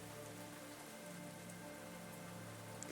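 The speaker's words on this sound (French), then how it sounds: "Sous la pluie fine, le monde semble figé" Fine, light rain falling steadily near a wooden pier by a lake at a Finnish spa, a soft even hiss of drops with occasional slightly louder patters, faint and continuous with no voices.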